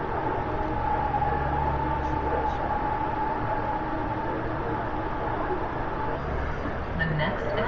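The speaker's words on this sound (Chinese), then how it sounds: "这样的火车。" The UP Express airport train runs from Union Station toward Toronto Pearson Airport on a rainy morning, giving a steady low rumble and hum of the moving carriage, with a voice speaking over it.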